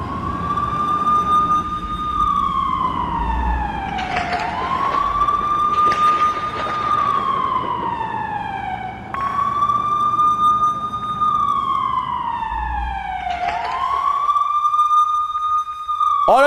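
A wailing emergency siren in a war zone, the kind that sends residents into bunkers, sweeps up and down in long repeated cycles, loud and continuous throughout.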